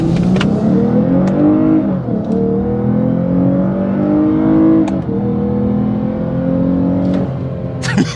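Lexus IS350 F Sport's 3.5-liter V6 with an 8-speed transmission accelerates hard, its loud engine note climbing in pitch and then dropping at each of several quick upshifts, heard close from inside the car.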